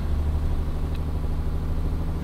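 A heavily laden truck engine labors up a hill in Euro Truck Simulator 2, a steady low droning rumble that holds constant throughout with no talk over it.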